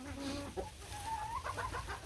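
Chickens clucking on a snowy mini farm, a few nearby birds giving soft repeated clucks and murmurs, fairly quiet against faint outdoor background.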